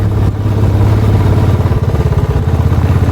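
Royal Enfield Bullet motorcycle riding a steep, broken, rocky mountain road in Spiti valley near Kaza, its heavy single-cylinder engine thumping steadily and close throughout, with clattering rhythm and no talk.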